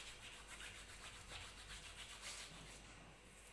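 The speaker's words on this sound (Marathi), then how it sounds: "तो ओवा हाताने असा चोळून घ्यायचा आहे" Ajwain carom seeds are rubbed between the palms, giving a continuous soft, dry rustling and grinding texture that stays close and fairly faint, with no talking.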